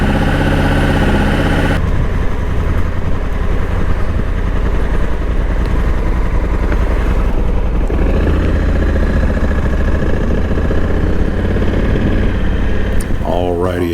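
A motorcycle engine runs loud and close, holding a steady, throaty idle throughout with a brief shift in tone near the start.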